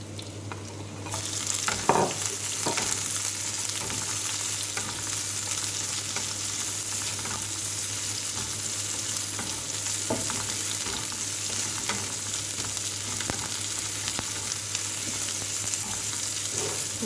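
Chopped onions sizzle steadily in hot oil with garlic for sautéed kangkong, a loud continuous frying hiss with occasional clicks of stirring, close and without talk.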